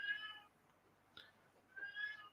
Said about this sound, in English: I don't know if you guys can hear the meowing.